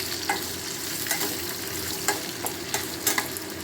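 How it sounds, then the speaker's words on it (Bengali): Vegetables including water lily stems are gently stirred in a sizzling pan, a close, soft steady fry with light scraping taps from the spatula every half second or so. "আলতো করে আমি নাড়িয়ে নিলাম"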